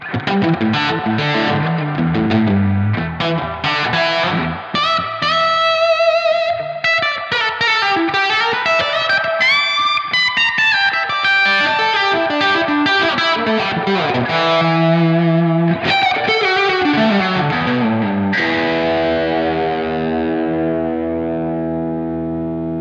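A distorted electric guitar with Les Paul humbuckers through a Fender amp plays busy chordal and lead phrases with effects shimmer, loud and continuous, no voices.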